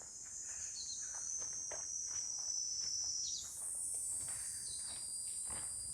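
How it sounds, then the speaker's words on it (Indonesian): Cicadas in Japan buzz in a continuous high, shimmering drone that swells in pitch partway through, with faint rustling and footsteps underneath. "Indah banget ya suara-suara tongeret gitu kan"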